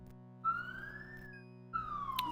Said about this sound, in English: There's a police siren in the distance and I can't think.